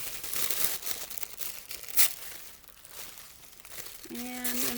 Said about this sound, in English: So I'm going to rip again